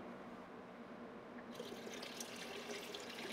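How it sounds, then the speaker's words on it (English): Water splashes and gurgles as it is poured into a bucket during an apple brandy run, the stream growing brighter and louder halfway through, close by and without voices. "You can put some more water in."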